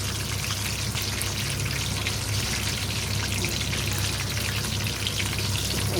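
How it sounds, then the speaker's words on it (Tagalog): Fish frying in reused cooking oil gives a steady, even crackling sizzle like light rain, moderately close and unbroken for several seconds, with no voices. "Tapos, ito yung isda. Piniprito ko."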